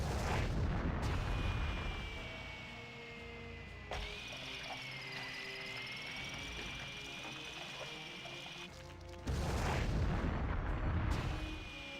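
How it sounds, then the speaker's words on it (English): Explosions from the Turok 3: Shadow of Oblivion video game boom loudly at the start and again near the end, separated by a sustained droning, whirring tone with layered mechanical texture. "you can be affected by your own explosions"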